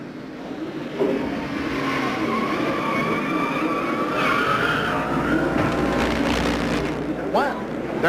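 Sterling Marlin's stock car screeches into a spin during the 1989 Holly Farms 400, tires squealing in rising and falling wails over the roar of race engines, with a commentator talking over it.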